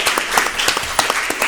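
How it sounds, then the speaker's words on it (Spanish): An audience at a literary colloquium applauds at the close of a talk, steady dense clapping from many hands in a room, with no voices. "Le vamos a dar un fuerte aplauso para despedirlo."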